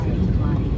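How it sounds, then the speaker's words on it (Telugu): Another aircraft arriving beside a parked plane at an airport, a steady low rumbling engine roar heard from inside the cabin, continuous and fairly loud for a brief moment. "పక్కన ఇంకో ఫ్లైట్ వచ్చింది."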